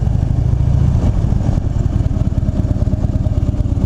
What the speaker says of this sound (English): this is my new motorcycle